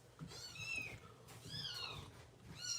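Kittens meowing in high, thin, drawn-out cries, two or three separate calls close by over a faint background hum.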